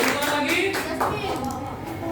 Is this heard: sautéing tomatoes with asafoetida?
no